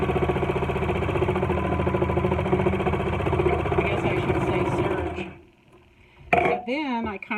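A serger sewing machine stitches along the long edge of t-shirt fabric for a mask, a steady dense mechanical whir with a fast rhythmic chatter for about five seconds before stopping; a few faint handling noises follow.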